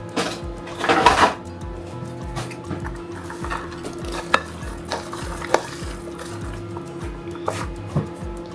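Chopped Pink Lady apples being folded into vegan cake batter, giving soft, wet stirring and scraping with light clicks of a utensil against the bowl, close and fairly quiet.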